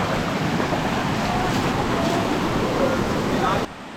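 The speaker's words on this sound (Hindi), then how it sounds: "हम जो ये छोटे वाले वाटरफॉल के पास आ गए हैं।" A small waterfall in Gujarat gives a steady, broad rushing roar of flowing water, close and loud, with some wind buffeting on the microphone, before cutting off at the end.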